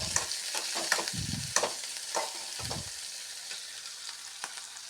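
Capsicum and potato fry in a pan with a soft, steady sizzle, broken by occasional scraping stirs, quiet and close with no talking.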